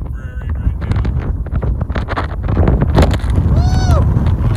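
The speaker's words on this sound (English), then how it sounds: "It is so windy up here." Strong wind gusting outdoors high up on a steel shop frame under construction, a steady loud rushing with rumbling buffets on the microphone that continue throughout.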